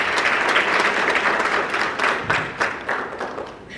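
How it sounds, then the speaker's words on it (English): An audience at the Ethiopian Society of Orthopedics and Traumatology annual general meeting applauds the keynote speaker with a full, sustained round of clapping. The applause is loud and dense, then thins slightly into separate claps toward the end. "Please give a round of applause for him."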